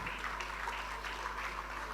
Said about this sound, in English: Another resounding applause for Melvis Ugo